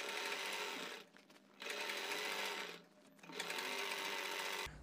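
Sewing machine stitching a kurti neckline with Anchor thread, a steady close whirring in three runs separated by brief pauses.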